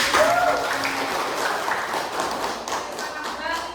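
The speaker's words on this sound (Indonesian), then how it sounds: "Allah, tepuk tangan." Students in an Islamic history classroom clap together, a brief burst of scattered applause that tapers off over a few seconds, with talk mixed in.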